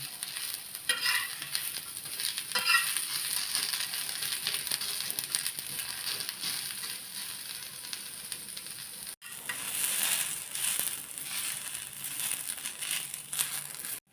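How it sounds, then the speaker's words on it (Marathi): Chopped onion frying in a little oil in a pan while being stirred, a steady close sizzle that crackles throughout with a brief break partway, no voices. "कांदा भाजताना आपण थोडंसं तेल घालायचं म्हणजे कांदा पटकन भाजला जातो थोडा गोल्डन कलर येईपर्यंत भाजून घ्यायचा"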